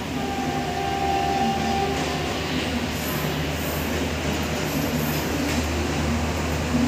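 Mumbai CSMT to Malda Town Express arriving at Dadar Station, a continuous loud rumble of rolling rail cars with rhythmic wheel clatter and faint high squeals, close by and unbroken.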